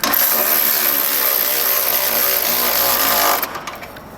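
A power wrench drives 13 mm and 17 mm bolts into a Roadmaster Direct-Connect base plate on a 2021 vehicle, a loud close continuous whirring ratchet that cuts off abruptly near the end.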